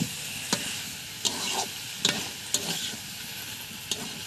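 Chicken with onion and garlic frying in a pan, a constant sizzle punctuated by a regular series of about six sharp spatula scrapes and taps.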